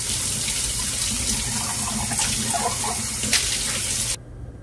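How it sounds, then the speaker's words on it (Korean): Warm tap water runs steadily over a glass cup wiped with vinegar, a close splashing stream with faint clinks of glass, then the flow cuts off abruptly near the end. "식초로 닦은 컵을 온수로 헹궈주면"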